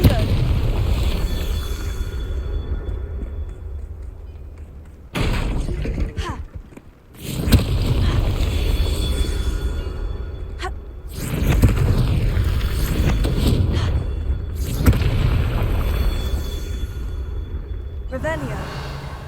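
The Confringo fire-blast spell in Hogwarts Legacy goes off as heavy booming explosions with rumbling aftershocks, several loud close blasts separated by short quieter gaps, with a voice heard among the action.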